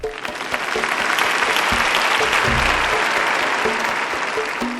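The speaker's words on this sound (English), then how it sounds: "The applause grew louder." Audience applauding a medal presentation, loud sustained clapping that swells early and holds steady as a dense roar of hands.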